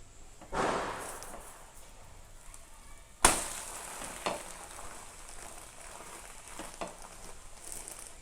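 An egg mixture cooks in a frying pan with a soft, steady sizzle, broken by a sharp clatter or knock of the pan partway through and a few lighter bumps afterward.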